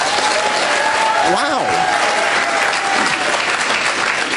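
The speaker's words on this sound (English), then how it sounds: "So you applaud if you're against gun control." Audience at a Republican Jewish Coalition comedy event breaks into loud, sustained applause that fills the room, with a voice briefly exclaiming over the clapping.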